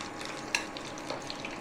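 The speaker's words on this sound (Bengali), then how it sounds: "এটা দুবার করে ফ্রাই করলে খেতে ভালো হয়।" KFC-style chicken strips frying in hot oil for a second crisping fry, a steady soft crackle and bubble with one sharp clink near the start, close and fairly quiet with no voices.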